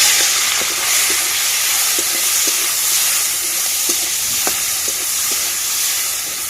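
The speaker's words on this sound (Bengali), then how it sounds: "নুন হলুদ মাখানো চিংড়ি মাছগুলো বন্ধুরা ভেজে নেব।" Shrimp coated with salt and turmeric frying in hot oil in a wok, a steady loud sizzle with small scattered pops and occasional stirring clicks.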